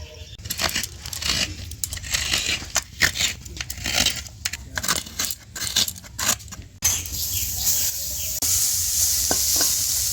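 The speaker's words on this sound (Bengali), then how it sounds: "নারকেলটা কড়াইতে দিয়ে দিয়েছি" Freshly grated coconut cooks in a kadai wok for a sweet pitha filling, with a soft sizzle under repeated close scraping and stirring strokes, rhythmic at first and then settling into a steadier hiss.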